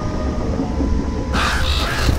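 Crows in the Uncharted: Drake's Fortune video game caw harshly in a few loud, close calls that break in over a steady background rumble, with no talking.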